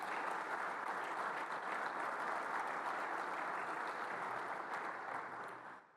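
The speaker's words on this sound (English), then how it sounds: "So give them a round of applause, please." An audience at a baseball coach's introductory press conference applauds steadily and fairly loudly for about six seconds, the clapping fading out at the end.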